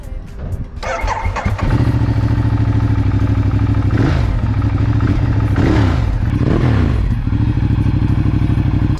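A 2015 Ducati Diavel motorcycle engine cranks and catches, then settles into a loud, close, rumbling run with several rising and falling revs, heard alone with no talking.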